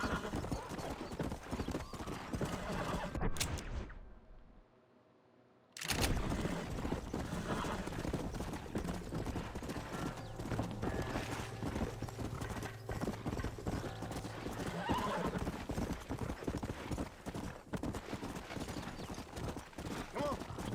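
Galloping hooves of a horse in Red Dead Redemption, a steady rapid clip-clop rhythm with game sounds and someone talking, briefly cutting out to near silence before the hoofbeats resume.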